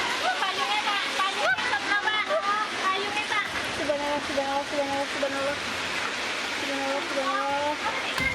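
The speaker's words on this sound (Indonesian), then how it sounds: "Warga merekam saat hujan turun disertai angin kencang di Kecamatan Wai, Jepara, Lampung Timur, Lampung." Heavy rain driven by strong wind in Wai, East Lampung, Indonesia, a dense steady roar of downpour and gusts that fills the whole stretch, with scattered bird calls over it and no talking.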